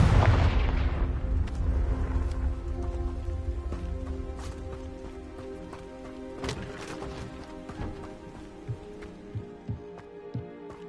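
A Confringo blasting spell from Hogwarts Legacy detonates in a loud, booming burst at the start, then rumbles away into a scattered tail of clatters, thuds and sharp cracks.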